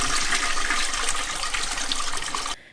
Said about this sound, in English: comprised entirely of videos of flushing YouTube's logo down the toilet